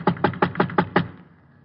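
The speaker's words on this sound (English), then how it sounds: "I went up and knocked on his door." Six evenly spaced knocks on the door of an old brownstone, close and firm, followed by a short fading tail and no voices.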